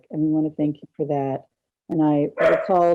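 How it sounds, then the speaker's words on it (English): During a Pittsburgh City Council regular meeting, a dog barks and whimpers in a run of short, loud, close yelps with a brief pause, while a person keeps talking over it. "excuse my dog who's upset about something"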